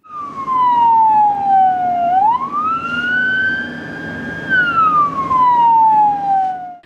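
Ambulance siren on a city road, a loud, close wailing tone that sweeps down, rises sharply, holds, then falls again, with traffic rumble beneath.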